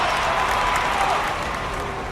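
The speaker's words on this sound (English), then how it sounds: "To the applause of the Pittsburgh Pirates fans here at Three Rivers Stadium." Pittsburgh Pirates fans at Three Rivers Stadium applaud in an Action PC Baseball video game, a steady, dense wash of crowd clapping and cheering throughout the short stretch.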